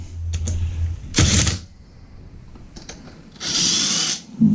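Rotary hammer breaking out a rusted toilet flange, two sharp bursts of loud rattling hammering separated by a quiet pause with faint scraping, each burst lasting under a second.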